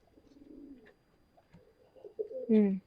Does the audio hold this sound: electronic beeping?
no